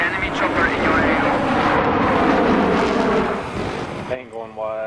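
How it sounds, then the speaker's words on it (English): An enemy helicopter in a combat video game roars past loudly as a heavy, rumbling engine and rotor wash that peaks and then fades, with the noise dropping away near the end. "Enemy chopper in your AO."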